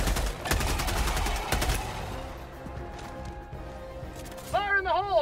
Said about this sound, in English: even the fucking rifle sounds are like straight out of Starship Troopers